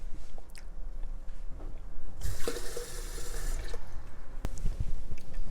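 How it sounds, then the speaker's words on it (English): Water pours into a pot of Liberian dry rice as a steady, close splashing gush for about a second and a half, then stops amid faint kitchen clatter. "I'm adding 2 more cups of water."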